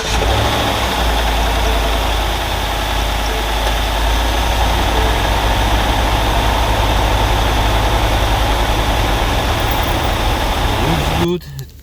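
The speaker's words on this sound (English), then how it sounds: "I'm going to start the engine and check the oil pressure inside" A 2016 Ford F150 with a 5L V8 idles steadily after starting, giving a loud, close, continuous rumble for about eleven seconds before it cuts off abruptly, with a voice talking over it.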